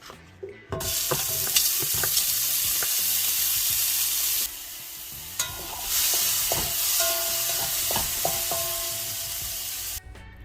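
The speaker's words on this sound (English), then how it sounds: "Make sure your oil is hot before adding the shrimp" Cooked shrimp frying in hot oil in a pot, a loud steady sizzle with intermittent stirring clicks and scrapes throughout, one brief dip partway through before the frying resumes.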